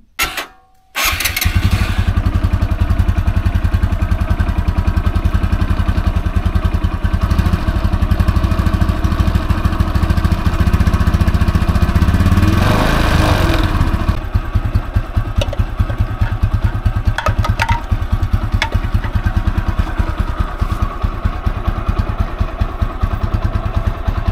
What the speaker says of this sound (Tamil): ஸ்டார்ட் பண்ணி லைட்டாக வந்து ஐடியல் ஆர்பிஎம்மில் ஒரு கொஞ்சம் நேரம் ரன் பண்ண விடுங்க